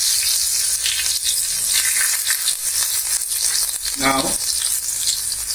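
Cumin seeds, green chilies and ginger sizzle steadily in hot oil for an Indian moong dal kurma. The frying hiss is loud and continuous throughout, and a voice speaks one brief word near the end.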